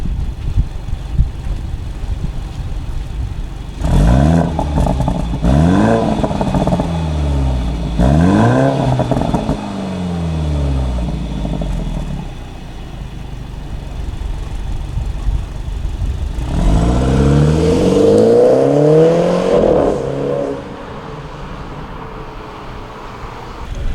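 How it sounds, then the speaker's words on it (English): A BMW F30 330i's OEM 340i dual exhaust revs sharply three times in quick bursts in sport mode, then pauses before the engine roars up through its range as the car launches and accelerates away. "now it's going to be 3 revs in sport mode and take off from a dig"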